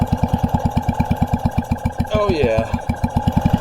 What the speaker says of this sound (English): even spinning the flywheel over by hand